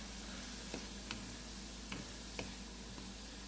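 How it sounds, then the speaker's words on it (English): Vegetables for spaghetti sauce sauté in a pan with a low, even hiss, broken by a few faint ticks and taps, quiet and continuous with no talking. "So we're gonna let that saute"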